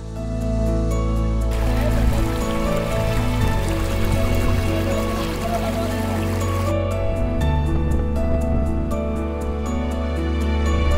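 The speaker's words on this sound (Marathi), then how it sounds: "पाणी वाहत येत आहे वरून आणि हे असं सगळं खाली खाली जाता हा हे रिव्हर्स वॉटरफॉल" Water pours and splashes steadily at the reverse waterfall at Machal hill station near Ratnagiri in the Konkan, a continuous rushing flow heard close by.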